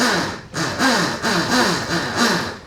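The upgraded electric motor of an ETM Revolver Alpha RC car whirs in repeated rising and falling surges of throttle, close by and steady, without any talking.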